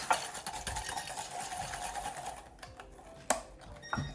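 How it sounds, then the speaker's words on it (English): A whisk beats a mixture with sugar for chocolate in a bowl, making a continuous rapid scraping rattle that stops partway through, followed by a few sharp knocks. "And then just whisk it a little bit."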